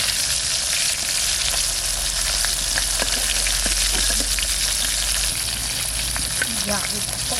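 Koi fish fry in oil with a loud, dense, continuous sizzle and fine crackling spatters, heard up close throughout with no voices.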